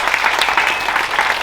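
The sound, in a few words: audience applause for the panelists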